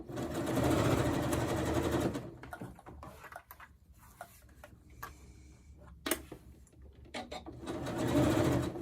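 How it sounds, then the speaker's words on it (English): Sewing machine stitching a facing around a neckline, loud steady running bursts at the start and end with quieter ticks and fabric handling between. "I'm going to stitch all the way around this facing on, just like any normal facing until you get to the front"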